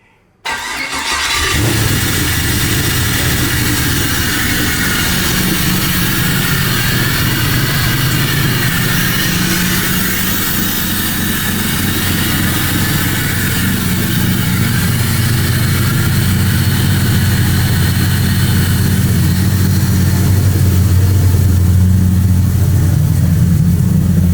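A BMW E46 M3 with a swapped LS V8 cranks and fires up, then settles into a loud, steady, rumbling idle that runs on without a break, heard up close with no talking.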